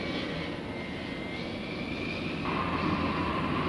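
Military aircraft engine roaring steadily on a runway during launch, a loud continuous jet-like drone that swells slightly toward the end.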